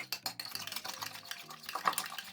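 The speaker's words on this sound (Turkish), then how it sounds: "Güzelce bunları bir karıştıracağım." Eggs, olive oil and vinegar stirred briskly in a bowl, with quick clinking utensil strokes against the side in an uneven rhythm, close and fairly quiet.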